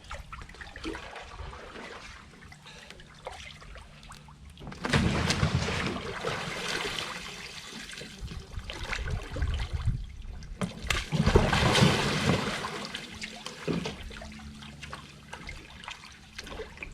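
An OC1 outrigger canoe rolling over in the water, with continuous splashing and rushing water that swells into two louder surges, close by and with no voices.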